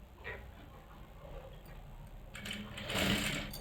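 A sewing machine stitches a strip onto a frock sleeve, whirring quietly at first and then running louder and faster toward the end.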